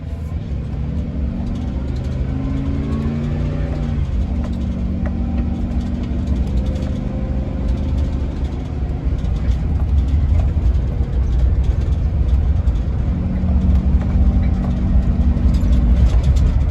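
A 2007 Roadtrek Popular 210 camper van drives along, its engine a steady low drone with the pitch rising and shifting through gear changes, road rumble heavy and continuous from inside the cab.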